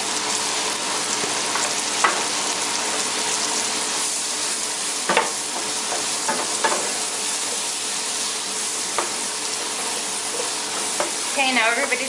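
Mushrooms fry in butter in a pan over lowered heat, giving a steady, even sizzle with occasional clinks and scrapes of stirring, close and alone.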